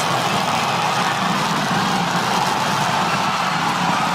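SpaceX Super Heavy booster engines firing in a landing burn, a loud continuous roaring rumble from a distance, dense and unbroken throughout.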